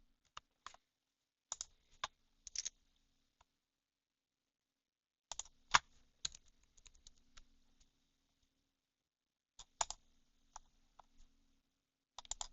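Keys clatter on a computer keyboard as a short message is typed, quiet close clicks in quick clusters separated by pauses.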